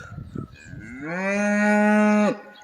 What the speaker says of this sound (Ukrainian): туди де коровиця мукає